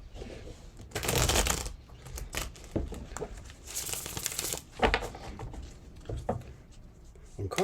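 Tarot cards being shuffled in repeated riffling bursts, close and fairly loud, with quieter handling and crinkling in between and no talking.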